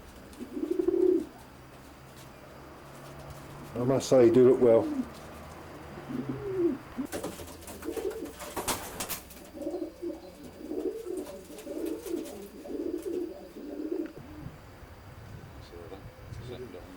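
Soft cooing of racing pigeons in a loft murmurs on and off in the background while someone speaks briefly, with occasional rustling and wing flutters.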